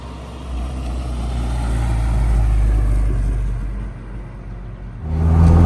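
A 1994 Rover Mini Sprite engine drones steadily while driving, a loud continuous low rumble that swells slightly, dips briefly, then surges louder near the end as the revs climb.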